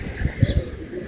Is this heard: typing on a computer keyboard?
no